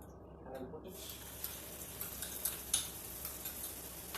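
Onion and garlic paste fries in a tablespoon of hot oil over a high flame, a soft continuous sizzle with faint scraping and a few light clinks, fairly quiet and close.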